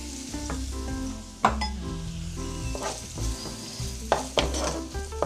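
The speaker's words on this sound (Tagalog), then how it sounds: "Gisa-gisa lang hanggang sa maging translucent na yung onions natin." Garlic and onions sauté in a pan with a soft, steady sizzle, broken by several sharp clinks and scrapes as a utensil stirs them; fairly quiet and close, with no speech.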